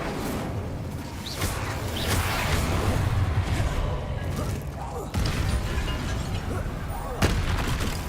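Spell explosions in the Hogwarts Legacy video game, with repeated booms and crashes over constant dense noise and several sharp hits, while a voice talks throughout.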